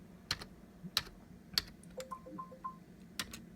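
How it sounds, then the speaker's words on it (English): Quiet typing on a computer keyboard, a handful of separate key taps spaced unevenly over a few seconds, close by and soft, with no voices. "I'm just going to type in something here just real fast."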